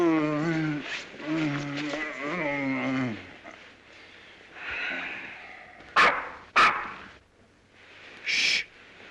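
A man imitates a dog with a run of yelping, barking vocal sounds, followed by quieter breathy noises and a few sharp, close clicks.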